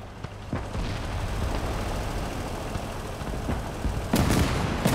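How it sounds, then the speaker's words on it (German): Battle din from the World War II strategy game Gates of Hell: Ostfront, with a dense, continuous rumble of gunfire and sharp explosive cracks near the start, middle and toward the end. "die Kübelrider explodieren immer am besten im Minenfeld"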